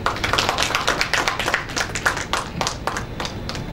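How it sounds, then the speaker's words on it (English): A small audience at a business session claps briefly, with distinct individual hand claps in an uneven, fairly sparse rhythm, close and moderately loud. "with a big round of applause."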